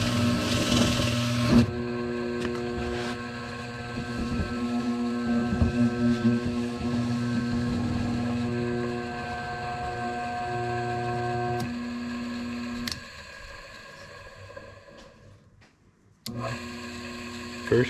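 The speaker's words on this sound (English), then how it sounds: "Motor definitely sounds better than it did." A Ridgid air mover blower motor, its bearing freshly oiled, runs with a steady tonal hum and whir that shifts between speed settings, briefly winds down, then starts up again.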